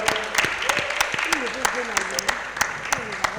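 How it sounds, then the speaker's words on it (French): Audience applause at a lycée event in Bouaké, Ivory Coast: a crowd claps in quick irregular bursts while a voice talks over it. "On l'applaudit très fort, on l'accompagne."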